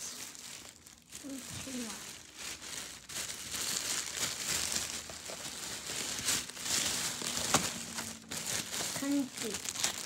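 Plastic shopping bags from a market crinkle and rustle close up in repeated handling bursts, while someone speaks quietly over them.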